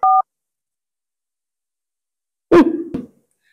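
A telephone sounds a single short dialing tone, clear and steady, followed by a long silence and then a brief rough thump-like noise.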